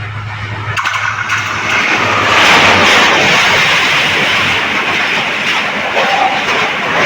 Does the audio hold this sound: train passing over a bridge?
yes